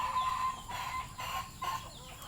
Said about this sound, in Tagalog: Kaya dala nila yung mga manok na iba.